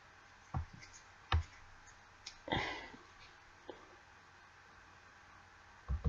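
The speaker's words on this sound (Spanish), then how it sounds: "Y clic derecho sobre la capa." A computer mouse clicks sharply and sparsely during Photoshop editing work, a handful of isolated clicks spread unevenly over several quiet seconds, close and soft with no voice.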